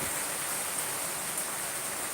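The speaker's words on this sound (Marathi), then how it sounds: "सध्या पाऊस चालू आहे खूप पाऊस पडत आहे सध्या" Steady, dense rainfall hisses evenly without a break, a constant wash of drops with no voices.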